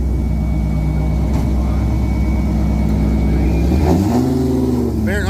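A red Camaro drag race car roars at the strip in a pro semi-final, its engine droning loud and steady, then climbing in pitch as it accelerates, with an announcer talking over it.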